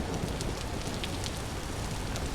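Steady rain falling in the survival game Vintage Story, a dense, even hiss of drops on surfaces with faint crackles, continuous and fairly loud with no break.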